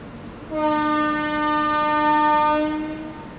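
As an Indian express train leaves the station, its horn sounds one loud, close, steady blast of about two and a half seconds over quiet background noise.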